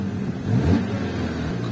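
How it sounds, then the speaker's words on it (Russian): The engine of a Chrysler 200 car runs with a misfire and a dead cylinder, a close, steady idle that rises in a short rev with an uneven rumble. "Мотор работает, в принципе. неплохо, но надо обслужить"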